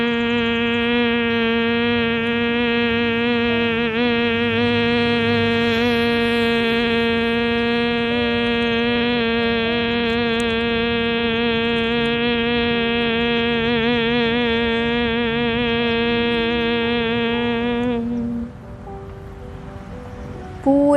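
A person hums with closed lips on a long nasal exhale during bhramari breathing, imitating a bumblebee: one steady, loud, buzzing drone held for about eighteen seconds, then a soft release of breath.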